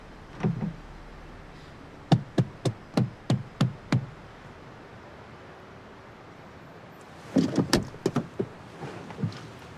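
A series of sharp knocks on a door, a cluster of about six evenly spaced raps followed by a pause, then a second burst of knocking and handling sounds in a quiet indoor room, with no talk.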